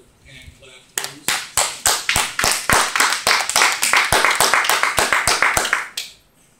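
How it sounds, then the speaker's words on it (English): A church congregation claps in a fast, steady rhythm for several seconds, loud and close, starting after a brief pause and stopping abruptly. "give the Lord another hand clap, please."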